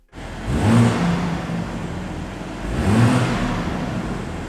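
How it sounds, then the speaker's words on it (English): A BMW M440i's 3-litre straight-six turbo petrol engine revs twice in quick succession, two loud surges with a steady mechanical hum in between, heard up close with no talking. "Want to know what the engine sounds like? Well, it sounds like this."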